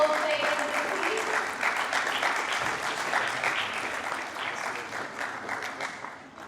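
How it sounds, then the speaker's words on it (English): A live audience at a squash talk session applauds Amr Shabana, dense steady clapping filling the whole clip at moderate loudness, with a faint voice briefly audible near the start. "Big round of applause for Mr. Amr Shabana, please"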